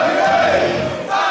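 A wrestling crowd cheers at an IWA East Coast deathmatch show as the champion poses on the ropes with his trophy: a dense, loud, continuous roar of many voices filling the space.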